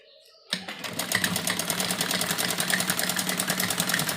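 A sewing machine stitches a curved seam on a girl's pleated full-sleeve frock, running steadily and continuously after a brief quiet start, its rapid needle clatter close and alone.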